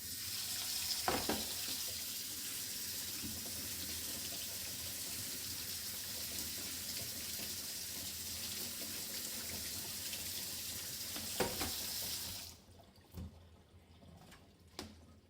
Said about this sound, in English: empty your blueberries into your strainer and then give them another rinse